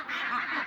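Ducks kept on a farm, some of them sick, give a brief nasal quack, close and fairly loud, lasting under a second with no talking over it.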